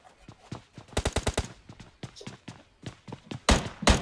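Rapid bursts of gunfire in a competitive team video game battle, a quick volley of sharp shots followed by scattered single shots and a heavy louder pair near the end.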